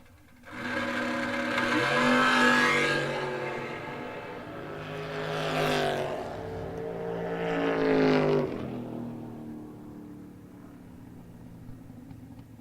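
Drag racing cars, a roadster and a little Nova, roar down the track at a New Year's drag racing event. There are several loud engine surges with rising pitch, each swelling and fading over the run, with the noise dying away afterward.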